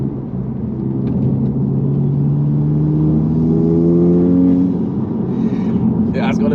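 Audi S3 8V on a straight pipe exhaust revving up: a loud, close engine drone climbing steadily in pitch over a few seconds with a brassy, trumpet-like tone, then easing off.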